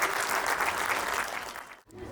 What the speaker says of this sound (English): a big round of applause to our young kids